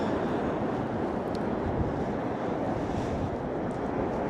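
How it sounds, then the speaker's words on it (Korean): Waves wash continuously against the shore of a beach on Ulleungdo, South Korea, under a steady roar of wind buffeting the microphone, with no voices. "울릉도 독도 해양기지 앞에 있는 바닷가에서 바다를 잠깐 보고 있어요"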